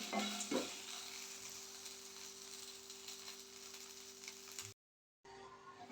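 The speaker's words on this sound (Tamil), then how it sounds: "பாருங்க, இந்த மாதிரி வதக்கினா போதும்." Musumusukkai greens being sautéed in a pan, a quiet steady sizzle with light stirring scrapes throughout, broken by a brief silent gap near the end.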